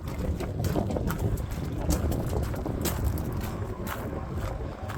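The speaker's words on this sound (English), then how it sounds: "Super windy today." Strong outdoor wind buffets the microphone beside a fifth wheel trailer, producing a constant low, rumbling roar with gusty swells throughout and no speech.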